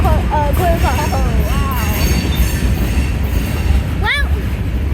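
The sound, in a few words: train passing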